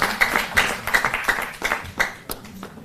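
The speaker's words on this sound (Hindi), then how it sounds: "जोरदार तालियों से हम सहभागी बने" Scattered applause at a government ceremony in Delhi honouring the chief minister with a turban, a handful of distinct, uneven claps rising and falling in small bursts, moderately close and fairly quiet.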